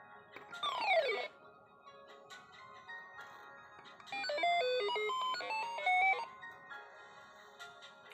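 A DIY Arduino sound box plays an electronic telephone ringing effect: a quick falling chirp, then a longer passage of bright, stepped melodic tones, fairly close with no talk.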